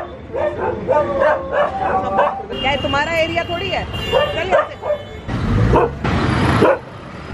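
An elderly sixteen-year-old dog out on an outing gives several nearby yips and barks, mixed with whimpering, while people talk over it throughout.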